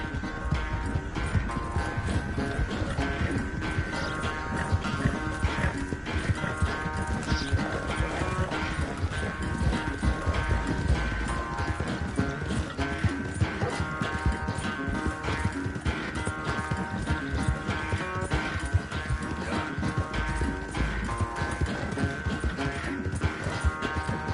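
Steady galloping hoofbeats pound continuously under a dense, loud layer of music and effects, with a brief horse whinny mixed in, during a horse race in the video game Red Dead Redemption 2.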